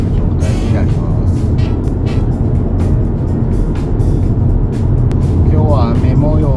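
A Suzuki Swift XR Limited cruises at about 70 km/h with the engine near 1200 rpm in rainy weather. A constant low rumble of engine and road noise runs throughout, and a person talks over it.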